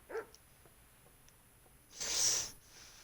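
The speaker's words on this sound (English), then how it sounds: "Can you help me with training my dog?" A dog in the video game Kingdom Come gives a short, faint yelp at the start, then a longer, louder bark-whine about two seconds in, with quiet gaps in between.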